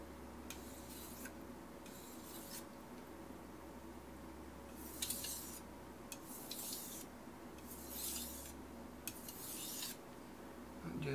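A kitchen knife drawn across a fine-grit Shapton Pro whetstone with very light pressure, soft repeated rasping strokes in short bursts with pauses between, close and quiet.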